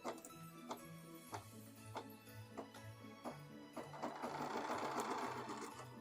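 A sewing machine stitches fabric for Santa socks, with quiet rhythmic mechanical ticks and motor hum that speed up into a steadier, busier whirr toward the end, heard alone with no talking.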